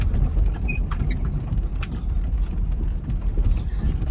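Chevrolet Tahoe crawling slowly uphill off-road in first gear with light braking, a steady low engine rumble with faint clinks and rattles over rocky, leaf-strewn ground.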